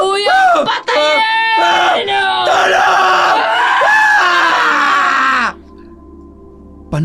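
A man screams and yells in anguish within a dramatized horror story, loud, strained cries rising and breaking over several seconds before cutting off into near silence.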